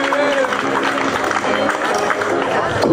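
A studio audience on a German quiz show claps for a correct answer in a song-recognition round, a dense, steady wash of applause lasting the full stretch without a break.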